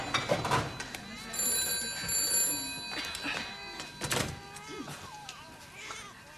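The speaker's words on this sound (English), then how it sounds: "The phone's ringing." A telephone rings indoors in a domestic sitcom scene, bright repeated trilling bursts mixed with room noise, movement and brief voices.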